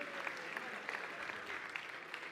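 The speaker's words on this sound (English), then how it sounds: "I want you guys to give yourselves a round of applause" A crowd at a Garmin Fenix 8 regional product launch event applauds in a steady, dense wash of clapping that holds for the full stretch, with sharper claps popping out now and then.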